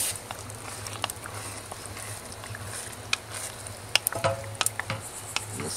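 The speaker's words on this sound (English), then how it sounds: "And then we'll stir that up a little bit." Chili being stirred in a pot over a LongHorn rocket stove outdoors, with soft scraping and occasional sharp clinks of the spoon against the pot over a steady low burner rumble, no talking.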